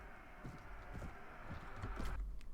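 Horse hooves clip-clop in Mount and Blade: Warband, a faint, steady run of soft thuds over a dull background rumble during battle, with no speech.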